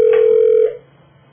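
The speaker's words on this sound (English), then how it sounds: "I set my phones for two rings, and then it goes right to the machine." A single short electronic telephone ring tone sounds clearly for under a second before the line falls quiet, ahead of an answering machine picking up.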